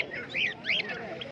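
Fancy pigeons for sale at a weekly bird market in Santipur chirp and call in short, bright bursts. The calls are fairly close, with a busy market murmur underneath.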